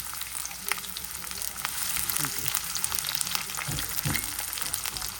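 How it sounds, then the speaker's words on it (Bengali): Onions fry in mustard oil with a soft, crackling sizzle and scattered pops, plus occasional stirring clinks, steady throughout. "পেঁয়াজটা হালকা ভাজা হয়ে গিয়েছে"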